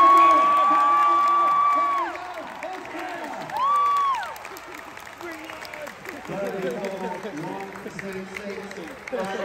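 A crowd at a horse show dog agility event cheers and applauds, swelling loudly at first and then easing, while a voice commentates over the noise and whistle-like tones sweep through.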